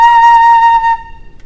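A flute holds one bright, steady note with diaphragm vibrato pulsing through it, close and loud, for about a second before it cuts off.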